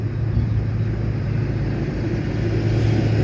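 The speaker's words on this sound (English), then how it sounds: "See what I mean by the trucks?" A steady low engine rumble from trucks or tractors passing on a rural road near a bridge and railway line in Nottinghamshire, continuous and fairly close with no talk.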